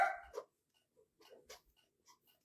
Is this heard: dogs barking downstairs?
yes